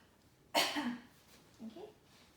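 A patient coughs on request into a napkin during a metered dose inhaler competency check: one strong, close cough followed by a softer second cough or throat clear, in an otherwise quiet room.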